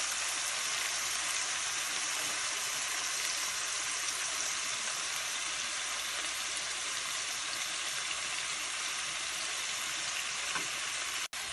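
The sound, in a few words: marinated chicken frying in gravy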